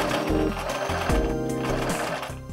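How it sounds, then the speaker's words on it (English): A sewing machine stitching couch cover fabric into an apron dress, running in rapid mechanical bursts that speed up and pause, close and loud with no talk. "Let's get to sewing."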